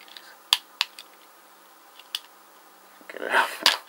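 Scissors snipping polarised sunglasses material, a few sharp isolated clicks spaced apart in a quiet room, followed by a louder rustling scrape of handling near the end.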